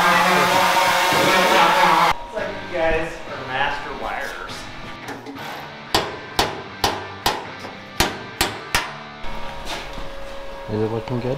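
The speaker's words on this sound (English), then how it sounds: "Trying to get this crease out of the fender" A hammer strikes a crease out of a car fender on a rat rod wrecker, a series of sharp, loud metallic blows at a steady pace after a stretch of louder noise and talk.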